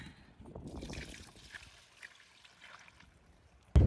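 Diluted compost tea made with laundry rinse water trickles from a scoop onto garden soil, a soft, close, uneven pour that gradually thins, ending in a sharp thump.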